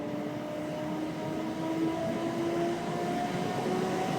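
A MAXVAC Dustblocker DB650 air scrubber running at full power makes a steady, even fan whoosh with a faint tonal whine riding on top, constant and fairly close, with no voices.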